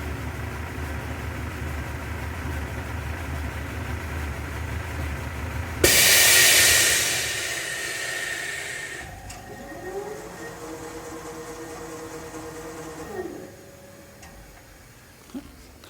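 A Hunter GSP9700 road force wheel balancer spins a wheel with a sharp start, a loud whooshing run-up, then a softer whirring hum and rhythmic ticking as it slows and stops.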